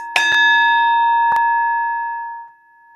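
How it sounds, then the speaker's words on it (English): A small metal spirit bell is struck once near the microphone, giving a bright clear ding whose pure ringing tone sustains and slowly fades over a couple of seconds, with a light tap midway. "Spirit bell for you."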